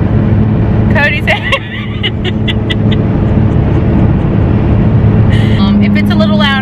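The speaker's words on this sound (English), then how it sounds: "This truck is kind of loud." A heavy truck engine rumbles loudly and continuously in the cab, with someone talking over it at times.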